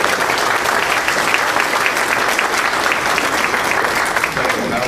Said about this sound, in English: let's give these gentlemen a round of applause